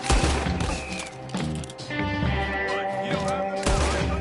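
Gunfire in Red Dead Redemption 2, with a rapid run of loud, close shots and thuds in a busy burst of fire over a game soundtrack, heard throughout without talk.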